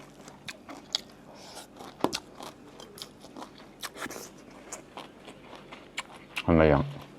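Crunchy biting and chewing of fried battered chicken wings served with mango curry, a series of close, crisp crackling bites scattered across the clip, with a louder burst near the end.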